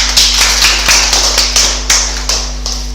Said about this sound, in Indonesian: kita sambut dengan tepuk tangan yang meriah untuk bintang tamu kita